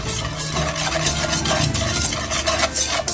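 Egg yolk and sugar whisked together in a bowl: a close, continuous fast scraping and tapping of the whisk, steady and busy throughout, with no voices.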